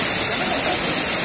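Waterfall Gully's waterfall roars as a dense, continuous rush of falling water, loud and close, steady for the whole moment.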